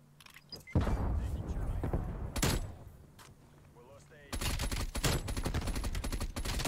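KSP-45 submachine gun in Call of Duty: Cold War firing sharp bursts, loud and close, with a rapid stream of shots in the second half while someone talks over the gunfire.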